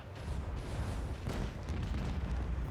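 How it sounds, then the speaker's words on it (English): Heavy macro cannons fire in a Warhammer 40K space battle game, a dense, continuous rumbling barrage of booms with a sharper blast surge partway through, loud and sustained. "Macro cannons. Open fire."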